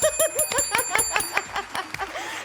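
A bright bell sound effect rings out in a quick series of chiming strikes, close and clear, with the tones fading toward the end.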